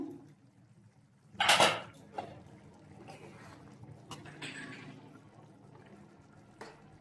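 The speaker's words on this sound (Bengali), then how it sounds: "এবার আমি ঢাকাটা খুলে দেখবো সবজি সেদ্ধ হয়েছে কিনা" A lid is lifted off a pot of simmering vegetables in a home kitchen, giving one sharp metallic clatter and a wash of steam and bubbling, followed by quieter kitchen clinks and a soft background hiss.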